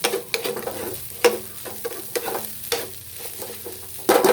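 Fried rice with salted fish is stir-fried over high heat, a loud sizzle under repeated sharp scrapes and knocks of a spatula tossing the rice in the pan.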